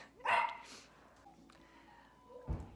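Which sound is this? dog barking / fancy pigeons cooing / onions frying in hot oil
dog barking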